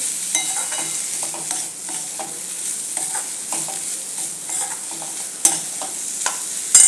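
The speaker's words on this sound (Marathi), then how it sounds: "हे बघा असं याच्यात हलवायचं व्यवस्थित" Bitter gourd curry stirred in a pan, heard as a steady frying hiss with irregular scrapes and clicks of the spoon, plus a few sharper knocks toward the end.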